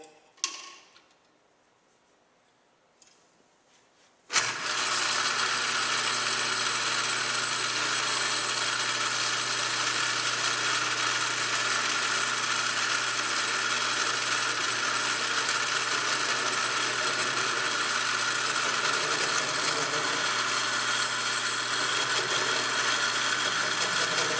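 A drill press motor starts after a few quiet seconds and runs steadily and loudly with a constant whirring drone until the end.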